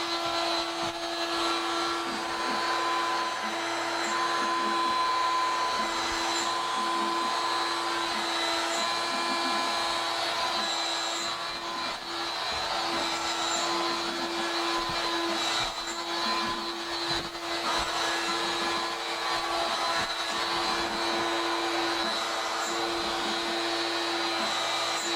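A machine runs steadily while cutting a balsa guitar soundboard, a constant, fairly loud whirring drone with a stable hum and slight fluctuations, uninterrupted throughout with no talking.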